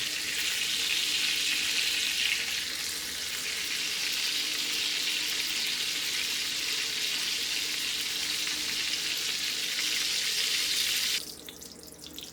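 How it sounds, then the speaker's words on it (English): Pork chops sear in a hot skillet with a steady, loud, broadband sizzle that holds unbroken for about eleven seconds before dropping slightly near the end, with no voices. "I'm just searing these pork chops"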